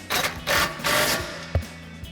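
A 13 mm socket on a ratchet tightens the running board steps on a 2021-2025 Ford Bronco, three quick bursts of close ratcheting clicks followed by a single sharp tap.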